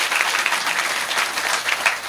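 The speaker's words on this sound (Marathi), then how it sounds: "त्यांच्यासाठी एकदा टाळ्या वाजवा सगळं." An audience at a Magh Purnima kirtan breaks into a dense, steady round of clapping that sustains evenly and fills the hall without speech.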